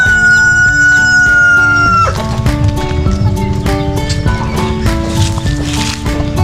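Turkeys and chickens on a backyard farm call loudly together, a long sustained crow opening before a dense run of gobbling and clucking carries on close by.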